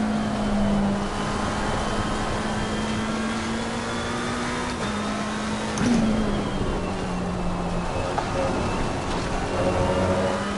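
McLaren GT race car in Assetto Corsa Competizione at Brands Hatch, a steady engine drone holding near-constant pitch with slight shifts, continuous and fairly loud throughout with no voices.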